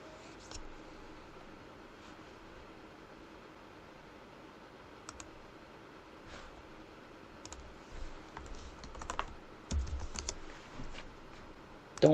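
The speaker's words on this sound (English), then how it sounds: "She's typing." Someone types on a computer keyboard, with light scattered key clicks that grow busier and louder toward the end, over a quiet room background with no talking.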